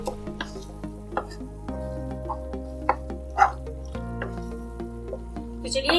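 Dried kasuri methi being stirred into dhaba-style paneer bhurji in a pan, with a low steady sizzle under soft scattered spoon scrapes and clicks, close by and without talk.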